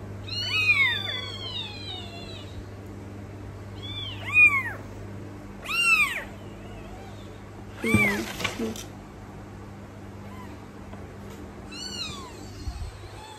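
A baby kitten meows repeatedly, high thin cries spaced every couple of seconds over a low background hum, close and fairly clear, with a brief rustling noise midway.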